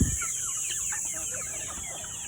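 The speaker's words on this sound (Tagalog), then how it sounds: "May sisiw pa naman tayo dyan." Young chicks peep in the aftermath of Typhoon Aghon, a busy, continuous stream of high, short chirps over a steady high-pitched hiss, close and moderately loud.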